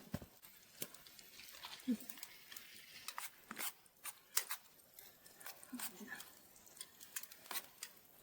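A spoon stirs soup in a pot at a forest campsite, making soft, irregular scrapes and clinks spaced through a quiet outdoor background.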